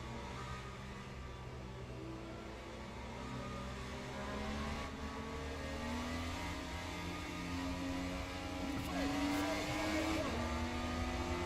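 An IndyCar-style race car engine in the rFactor 2 sim during an Indy 500 race drones at a steady high pitch, rising and shifting as gears change, with other cars faintly audible around it and no talk.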